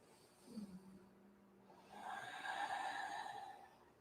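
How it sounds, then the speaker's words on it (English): Slow, deep breaths during a yoga forward fold in an Ashtanga session, a faint exhale followed by a longer, airy inhale, quiet and close with no talking. "Deep breathing for 1"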